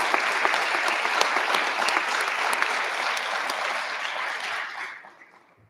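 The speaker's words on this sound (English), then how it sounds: "So a round of applause for all of them." Students and guests at the Flint Regional 2022 Science and Engineering Fair give a round of applause, brisk, steady clapping with sharp individual claps that carries for several seconds, then tapers off and fades to near silence.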